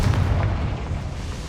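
A Confringo blasting spell going off in Hogwarts Legacy, a loud, close, deep explosive boom with a heavy low rumble that decays over about a second.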